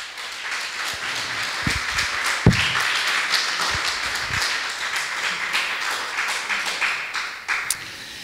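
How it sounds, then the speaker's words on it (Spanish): A church congregation claps after a sermon, with scattered sharp claps over a busy wash of noise and voices, fairly loud and continuous for several seconds. "Un aplauso al Señor"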